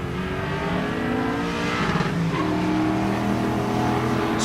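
Street-legal cars launch and accelerate hard down a drag strip at Rocky Mountain Race Week, engines roaring and rising in pitch as they pull away, loud and close with no talk over them.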